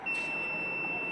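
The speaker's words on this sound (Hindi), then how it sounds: "आपको बीप का साउंड सुनाई दे रहा होगा।" A multimeter set to continuity gives a steady, thin electronic beep while its probes touch across slip ring motor terminals, one unbroken tone held through the clip over faint background hiss.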